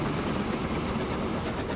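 A freight train in Transport Fever 2 rumbles past in a steady, loud, broadband roar with faint rhythmic wheel clatter, continuous throughout.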